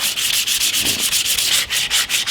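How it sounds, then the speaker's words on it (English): Quick, rhythmic back-and-forth sandpaper strokes rasp against a sooty wooden SKS rifle stock, about five scrubs per second, close and steady with no talking. "Just that little bit of sanding, you can see our paper is black"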